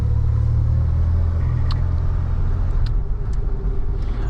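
Engine of a 1988 Dodge Ram B250 Safari van while driving, a loud steady low rumble with road noise heard from inside the cabin, a few faint clicks on top.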